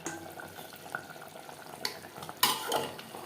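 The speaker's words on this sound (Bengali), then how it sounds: "মাটন বেশ ভালো করে কষিয়ে নেওয়া হয়ে গেছে।" Mutton for biryani is stirred and fried in a pot, with a steady soft sizzle under scraping spoon strokes and a few sharp metallic clinks against the pot, close and fairly quiet.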